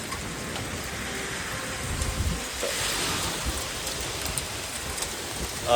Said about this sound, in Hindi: बारिश हो रही है, लेंस भी गंदा हो रहा है, भीग गया हूँ पूरा